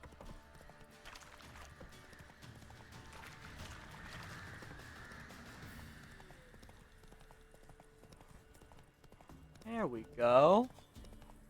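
Steady galloping hooves of Roach, Geralt's horse in Witcher 3, drum under quiet game ambience, then a loud whinny near the end. Someone speaks briefly over it.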